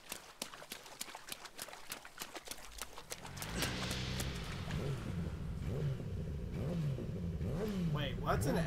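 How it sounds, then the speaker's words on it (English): A motorcycle engine revs up in the video game Yakuza 0, a loud rising and falling roar after a run of rapid ticking beats, with a voice talking over it. "what's an engine's noise doing down here?"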